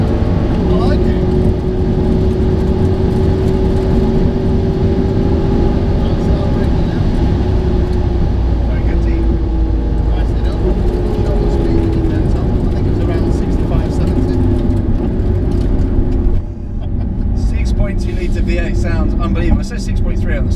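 Mercedes SLS AMG with its 6.3-litre V8 engine running hard at speed down a runway, a loud, steady engine roar and road noise filling the whole stretch, with a brief dip near the end as revs shift; people talk over it.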